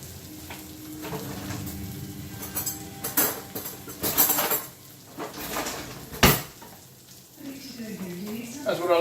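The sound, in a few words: plate and pan being handled while plating food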